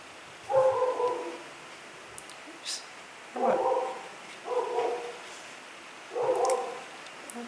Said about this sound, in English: can you hear my dog? She's downstairs barking.